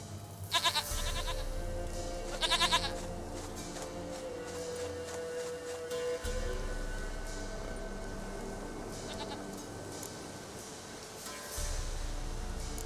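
A goat in Witcher 3 bleats in short repeated bursts over steady game ambience, moderately loud and nearby.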